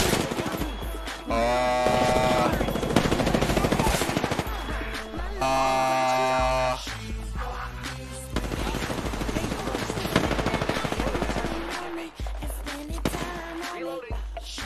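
Gunfire in the shooter game Apex Legends, rapid sustained automatic bursts with brief pauses, loud and dense over game music and effects.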